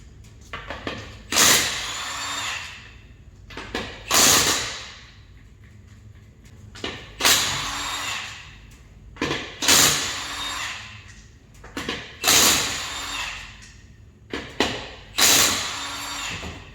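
An impact wrench set to reverse removes wheel lug nuts in a dozen or so short, loud, close rattling bursts separated by brief quiet gaps. No voices are heard.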